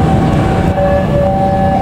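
A train pulls out of Cikampek station, a loud steady rumble of wheels and engine with a sustained high horn-like tone running over it, close and continuous with no talk.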